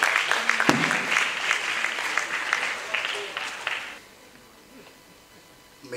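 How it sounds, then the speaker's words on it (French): Audience applause at the official launch of a debating contest in Lukunga, a dense, steady clatter of many hands for about four seconds before fading into quiet room noise. "Monsieur Christian, sous vos applaudissements, s'il vous plaît."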